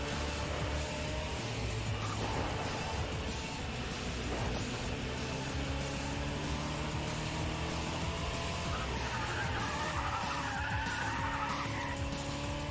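Tyres skid and a heavy 450-horsepower car roars through a Need for Speed ProStreet race, a steady engine drone mixed with squealing and scraping across the whole stretch with no voices.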